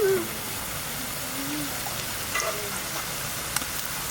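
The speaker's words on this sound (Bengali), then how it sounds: "পেঁয়াজ রসুন ভালো করে ভেজে নিয়েছি" Onion and garlic sizzle steadily in a hot pan, a soft continuous frying hiss with faint stirring clinks, heard close and alone throughout.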